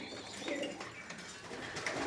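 Fancy pigeons in a loft, including a black-and-white Baghdadi, coo softly and repeatedly at a low, faint level amid a diffuse room ambience.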